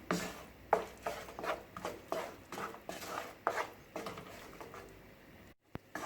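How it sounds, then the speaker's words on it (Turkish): Flour and coarsely broken walnuts roasted in a pan for Turkish flour helva: a spoon scrapes and knocks against the pan in irregular, close strokes, quieter toward the end before a brief silence and a final tap. "Şimdi bir 5 dakikada bu cevizlerimle kavuracağım."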